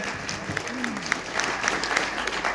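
An audience applauds at a motivational marketing event, a steady patter of clapping with a brief voice tone over it.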